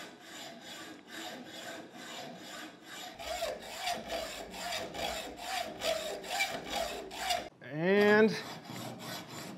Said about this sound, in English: just hacksaw it off